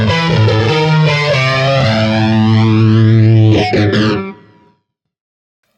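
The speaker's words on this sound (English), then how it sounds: "really high quality phaser effect, really big, thick sound" Loud electric guitar through a Vox Cambridge 50 modelling amp on an AC30-style channel with a thick phaser sweeping the tone, chords and notes ringing with swirling upper harmonics before fading into silence.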